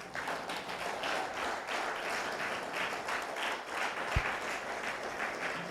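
A congregation claps and applauds during a church worship service, a dense, sustained wash of many hands clapping together, with a single louder thump near the end.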